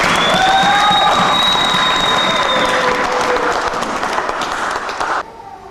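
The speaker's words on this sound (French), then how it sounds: "On peut acclamer Jésus de Nazareth." A church congregation applauds and cheers for Jesus, a loud, dense wash of clapping with raised voices and whistles that holds steady for about five seconds before cutting off abruptly.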